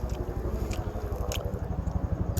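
Ruby Red Supreme guava with crunchy seeds being eaten in a front-yard garden: steady close chewing and biting with rhythmic crunches, moderately quiet, no talking.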